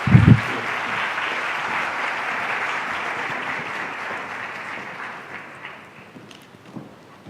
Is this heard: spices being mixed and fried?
no